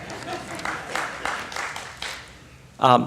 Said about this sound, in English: Yes, you can clap for that too.